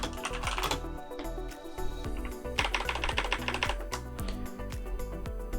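Fingers tap away at a low-cost mechanical keyboard in quick, uneven bursts of clicky keystrokes, close and continuous over a faint background tone, with no speech.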